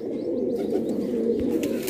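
Pigeons kept for sale by a fancier coo in a soft, continuous low murmur close by, with no talking.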